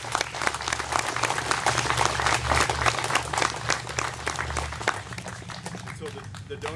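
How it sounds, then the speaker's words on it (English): An outdoor crowd at a war memorial rededication claps in a dense, even burst of applause that carries on before tapering off, with a voice speaking beneath it. "So I think we should go ahead and give everybody a round of applause."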